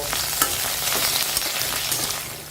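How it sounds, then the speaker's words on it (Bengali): Eggplant pieces frying in hot oil with a little salt, a steady, dense sizzle that holds level from start to finish with faint crackles and stirring ticks running through it. "এবার এই তেলের মধ্যে প্রথমে আমি একটু বেগুনের টুকরো ভেজে নিচ্ছি।"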